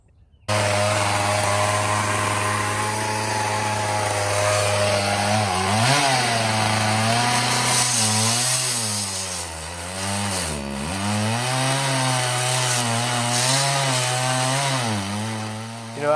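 A chainsaw with a dull chain cuts through wood. The engine drones loud and close, its pitch dipping and rising repeatedly as the saw bogs under load and recovers.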